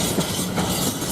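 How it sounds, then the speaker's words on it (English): A GBRf Class 66 freight locomotive hauls a freight train through Ely station with a loud, steady rumbling roar of wheels and engine, close by and continuous throughout. "Now we've got a freight train, 66735 GBRf."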